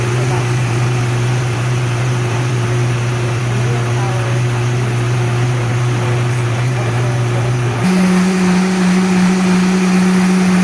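A Vitamix blender runs loud and steady, its motor whine holding one pitch, then shifting abruptly higher as the speed changes partway through.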